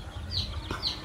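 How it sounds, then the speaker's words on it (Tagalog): Backyard chickens raised for derbies cluck and call twice in quick succession, faint against low background noise. "Mga alaga natin mga manok"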